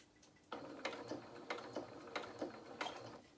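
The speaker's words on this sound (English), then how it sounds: "So I'm going to carry on stitching until I can see that my fabric is moving away from my reference point on my presser foot." A sewing machine stitches felt fabric for a doll's duffle coat in short bursts, with a soft rhythmic mechanical clatter and several distinct ticking pulses, close and fairly quiet, no voices.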